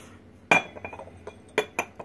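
A porcelain butter crock clinks sharply as it is handled, with one bright ceramic knock followed by several lighter taps and a second clear clink, close and otherwise quiet.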